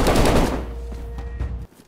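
Loud bursts of gunfire in the survival video game DayZ, a dense rapid volley for about a second and a half that cuts off abruptly, with a faint tonal hum lingering underneath.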